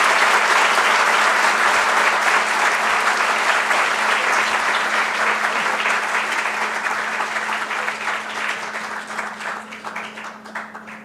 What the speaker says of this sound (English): Let us have a good clap of this sir for accepting this.